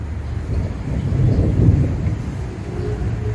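Thunder rumbles low and heavy during a rainy-season downpour outdoors in a garden. A rolling swell builds in the middle over a steady hiss of rain, with no talk.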